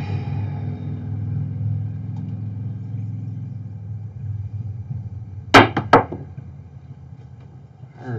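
Dice thrown on a craps table during a practice session land in two sharp clattering bursts close together, loud and near, over a steady low background rumble.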